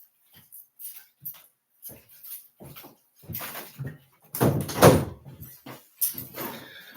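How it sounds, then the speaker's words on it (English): An indoor door being shut: scattered soft knocks and shuffles build to a louder rattling thud, followed by a few lighter clicks. "Let me shut this door real quick, just so my cat doesn't get in"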